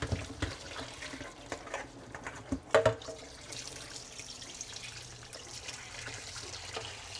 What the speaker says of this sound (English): Gotta put hot water in it again.